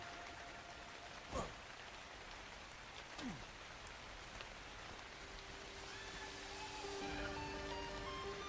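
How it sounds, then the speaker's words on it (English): Steady rainfall in the video game Ark Survival Ascended, a soft continuous patter of rain with a few faint sweeping tones and brief knocks mixed in, no speech. "it is so rainy here, though. It is literally not stopped raining."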